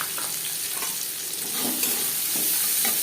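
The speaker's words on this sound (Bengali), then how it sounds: "কড়াইতে আবারও তেল দিয়েছি দিয়ে দিলাম পেঁয়াজ কিছু" Onions sizzle and crackle in hot oil at a moderate level, a steady frying hiss with occasional stirring scrapes.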